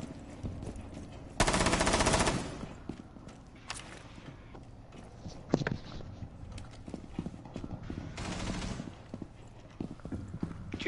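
Video game gunfire crackles in short bursts amid rapid clip-clop-like footsteps and scattered game effects, with a loud burst early on and another later, all fairly busy and mid-distance.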